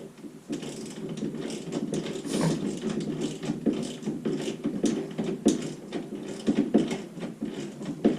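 A ratchet socket wrench clicks rapidly while installing parts on a 2007 Arctic Cat snowmobile, with steady bursts of close, loud ratcheting throughout and no talking.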